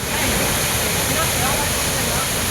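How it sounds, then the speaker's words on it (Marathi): Dabhosa waterfall near Jawhar hill station, a steady, loud broadband roar of falling water that fills the whole span without a break, with a wash of wind noise on the microphone. "दाबोसा धबधबा, जव्हार हिल स्टेशन दाबोसा धबधबा या नावाने ओळखले जाते हे धबधब्याला."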